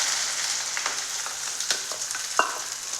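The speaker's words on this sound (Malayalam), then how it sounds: "ചൂടായ വെളിച്ചെണ്ണയിലേക്ക് നമ്മൾക്ക് ഈ സവാള മുറിച്ചത് ഇട്ട് കൊടുക്കാം" Sliced onion sizzles in hot coconut oil, a bright continuous hiss with a few light scrapes and taps from stirring, close and without speech.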